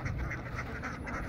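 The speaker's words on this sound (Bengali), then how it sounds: "এই দেখুন হাঁস লাফি লাফি নামতেছে" Farm ducks quack in short repeated bursts, several calls overlapping at moderate distance, fairly quiet, with no talk.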